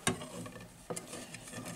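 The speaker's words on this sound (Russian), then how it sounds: "Доширак, короче, жарится" Chicken-flavour Doshirak instant noodles fry quietly in a pan with a soft, continuous sizzle, broken by two brief scraping stirs near the start and again about a second later.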